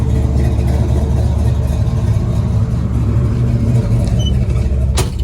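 A 1970 Dodge Charger's engine runs steadily through a test drive, a loud continuous low rumble with road noise and no talk.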